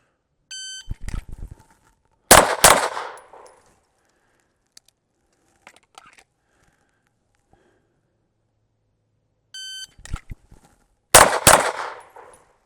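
Gunshots at a shooting range come in two sharp, loud strings of quick shots, each opened by a timer beep and separated by a few seconds of near silence.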